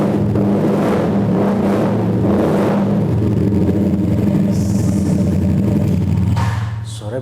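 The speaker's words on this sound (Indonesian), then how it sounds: "Kita coba geber-geber." A Yamaha Vixion motorcycle engine, customized as a bobber, revs repeatedly indoors, loud bursts swelling and falling before settling into a steady idle, with a brief whine near the end.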